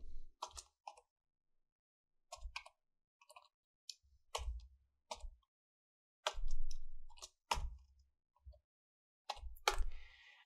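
Short bursts of clicky keystrokes on a computer keyboard, a few keys at a time with pauses between, close and quiet, with no talking.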